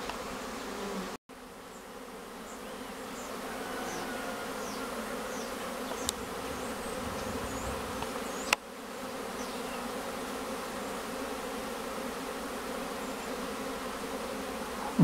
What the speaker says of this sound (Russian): Гудение на пасеке, как при роении